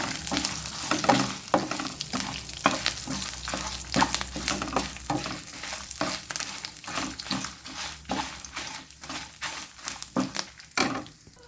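Curry leaves and chili sizzle in hot oil in a pan, a steady crackling fry broken by frequent stirring scrapes, close and continuous.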